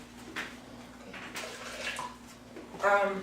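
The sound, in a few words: water being poured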